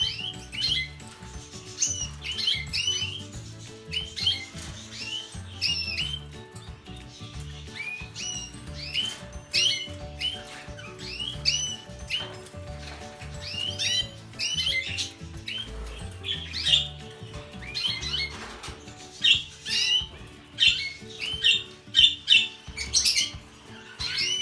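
Finches in a cage feeding on a bowl of vegetables and eggs: scattered high chirps and squawks from many birds, with soft pecking and rustling patter, close and irregular throughout.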